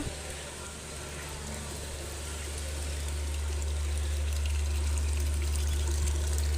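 Water running from a tap in a steady stream, with the low mechanical hum of a borewell being drilled nearby underneath, slowly growing louder.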